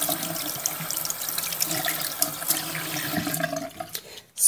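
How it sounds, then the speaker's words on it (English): Water runs steadily from a tap into a sink as brushes are rinsed out, close and continuous, with splashing that shifts in tone before it briefly drops and swells again at the end. "I'm just going to take and wash them, rinse them out real good."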